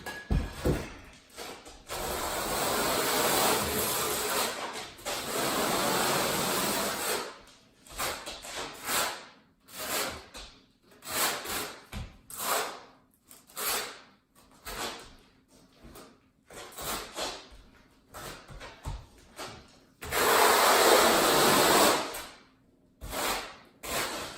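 Repeated scraping and sliding strokes of a trowel spreading tile mortar on a kitchen floor, coming in bursts of rough rasping with short pauses between passes, close and fairly loud.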